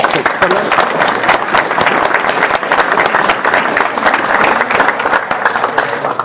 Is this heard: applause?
yes